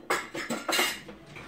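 Parmesan cheese being stirred into a pan of Alfredo sauce, a utensil scraping and clinking against the pot in several quick close strokes, with no talking.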